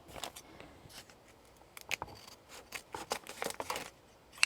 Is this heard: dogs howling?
no